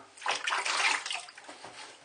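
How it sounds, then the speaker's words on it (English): Brief close splashing of water during a wet shave, a short burst of wet sloshing that swells and fades within a couple of seconds, with a fainter trickle afterward. "When you do your pickups, put a bit of water on, just to lubricate it"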